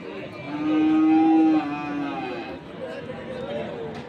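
Cattle moo loudly in one long low call amid the murmur of a busy crowd at a livestock market in Dinajpur, with people chattering around.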